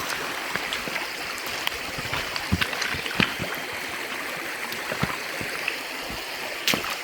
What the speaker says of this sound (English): It's a nice little waterfall swimming hole type of thing.